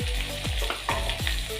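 Tomato curry is stirred in a pan over a bubbling sizzle, with three or four distinct low swishing sweeps of the spoon at a steady pace, close and without talk.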